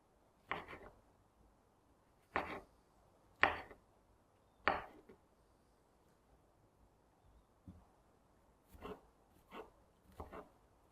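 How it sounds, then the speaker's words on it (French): A knife slices mushrooms into thin strips on a cutting board, giving sharp, isolated thuds in small clusters separated by quiet pauses, close and fairly faint. "Commencez donc par découper les champignons en fines lamelles."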